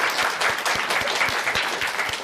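An audience claps in a brief burst of steady, fairly loud applause with a regular rhythm, heard alone without talk.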